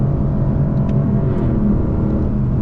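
A Lexus LC 500 accelerating downhill through sweeping turns on a road trip, heard as a steady, close engine and road rumble from inside the car that holds an even loudness throughout.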